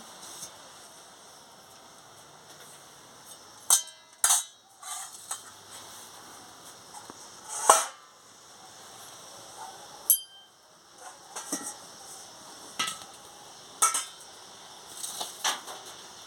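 A wok set on the stove while cooking chilli chicken, with a few sharp metallic clinks and knocks of pans and utensils spaced irregularly over a quiet kitchen background.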